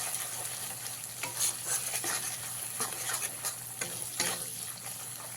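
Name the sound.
frying spices with turmeric and coriander powder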